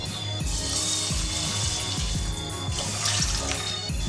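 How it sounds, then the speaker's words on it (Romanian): Two cups of water poured into a pot with rice, a steady close splashing and gurgling stream that continues for the whole few seconds, with no talking. "Și două cani de apă."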